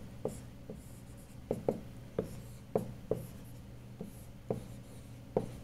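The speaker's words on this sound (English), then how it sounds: "I should also write down this equation." Chalk or marker tapping and scraping across a board as an equation is written during a physics lecture on Coulomb's law and electric fields, a series of short, close strokes with quiet pauses and no talking.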